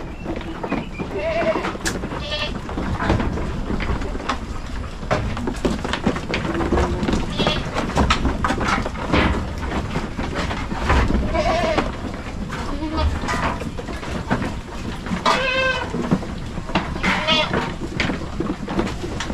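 Goats on a farm bleating, several calls rising from different animals in a busy outdoor pen, some nearer and louder than others, mixed with rustling movement and occasional voices in the background.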